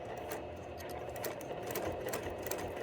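A sewing machine runs steadily, stitching quilt pieces with a quarter-inch seam, a continuous close whirring hum with a fast mechanical rhythm and no talking.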